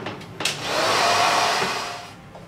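Hair dryer blowing over hair coated with henna gel at a salon, a steady loud airflow roar that swells in the middle and eases off, preceded by a few brief handling clicks, with no talk.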